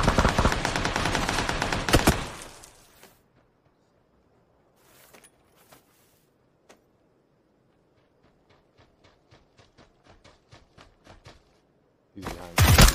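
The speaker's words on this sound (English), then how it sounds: "why would you shoot at the ground when you come around the corner?" Bursts of automatic gunfire from the video game PUBG: a dense, loud volley opens the stretch, then scattered single shots and a rapid string of distant cracks, before another heavy burst at the end.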